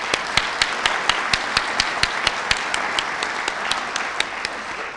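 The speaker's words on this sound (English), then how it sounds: "So let's give them a round of applause." Scattered, rhythmic hand clapping from a modest audience at the 2016 Central Ohio Senior Citizen Hall of Fame ceremony, with distinct individual claps repeating steadily for about five seconds.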